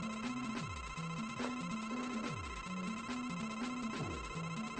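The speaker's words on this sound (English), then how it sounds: "Now this is the stage with the really grating noise in the pause menu." A grating pause-menu sound from the Mega Man 9 video game plays on its own: a warbling electronic tone pattern that loops with repeated descending swoops and buzzy beeps, loud and continuous.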